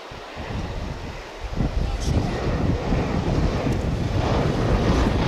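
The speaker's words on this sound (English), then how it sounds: "It's an Airbus A319, a baby bus." An Airbus A319 airliner passes at DFW Airport, heard as a broad, rising jet roar mixed with gusty wind noise on the microphone, growing louder and steadier through the clip.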